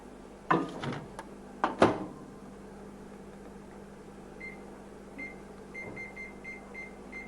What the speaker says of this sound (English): Pop it into the microwave, once again on full power.